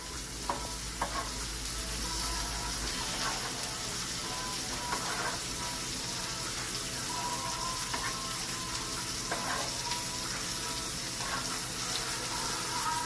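Food coated in Old Bay sauce sizzles steadily in a hot pan, a constant close crackle and hiss with a few light scrapes of a spoon, no voices.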